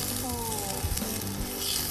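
Pear slices pan-frying in a hot pan, giving a steady, close sizzle with faint crackles and no talking.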